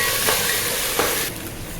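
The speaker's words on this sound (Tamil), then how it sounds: "இஞ்சி பூண்டு பேஸ்ட் போட்டு நல்லா வதக்கிக்கலாம்" Steady sizzling and frying hiss of ginger garlic paste cooking in hot ghee, with a couple of soft stirring scrapes, close up and fairly loud.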